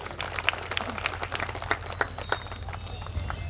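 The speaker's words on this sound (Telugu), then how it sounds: "గట్టిగా చప్పట్లు వీడికి." An audience at a gathering breaks into scattered hand-clapping, a continuous patter of claps with a few louder bursts, heard alone without speech.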